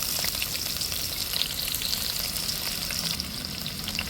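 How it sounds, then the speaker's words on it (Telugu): Chopped onion frying in hot oil in a pan with cardamom, stone flower and peppercorns, a steady close sizzle and crackle with no talk. "ఈ ఆనియన్స్ గోల్డెన్ బ్రౌన్ కలర్ వరకు ఫ్రై చేసుకోవాలి"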